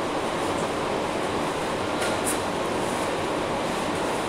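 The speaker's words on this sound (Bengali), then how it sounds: "খুব দ্রুত গতিতে ট্রেন চলেছে।" A passenger train runs at high speed in Bangladesh, a loud unbroken roar of wheels and rushing air that holds steady throughout, heard from on board.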